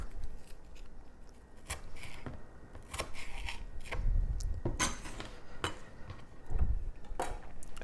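Small tomato chunks being cut on a board: a quiet, irregular series of knife chops and taps, some with a soft thud, steady for several seconds with no talking.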